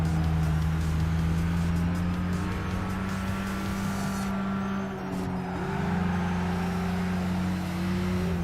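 Engine of a Nissan Skyline R33 in Gran Turismo drones steadily at high revs, a loud sustained tone that dips briefly near the middle, as if on a lift and brake, then climbs again.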